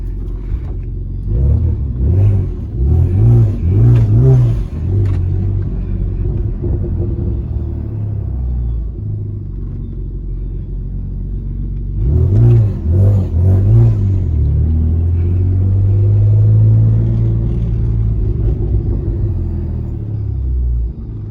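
BMW 335i with an N54 engine on a test drive, a deep rumbling engine that swells in two revving pushes, the second rising into a sustained climbing drone, heard from inside the car with no talk.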